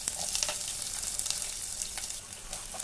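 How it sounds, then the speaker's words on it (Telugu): Onions and green chillies fry in hot oil with mustard seeds and a curry leaf, giving a steady, close hiss and sizzle with small crackling pops throughout and no talking. "ఆనియన్స్ అన్నీ ఫ్రై అవ్వాలి"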